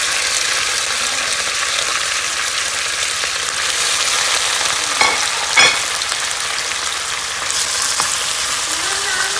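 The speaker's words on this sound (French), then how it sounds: "Donc mon huile elle a chauffé comme vous avez pu le constater. Je fais cuire les légumes." Vegetables frying in hot oil in a pan, a loud, continuous close sizzle with a few brief stirring clatters.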